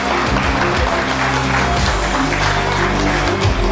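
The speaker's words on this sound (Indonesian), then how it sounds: "Tepuk tangan yang meriah untuk Dery Ansyah." A studio audience on an Indonesian TV dialogue show applauds a guest being introduced, a dense, steady wash of clapping held at full level throughout, with a low musical bed running underneath.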